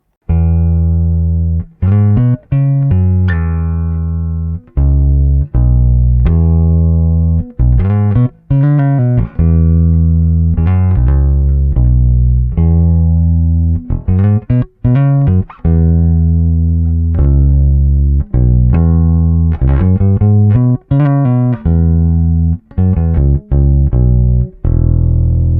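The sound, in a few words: bass guitar playing a slow sustained bass line, string comparison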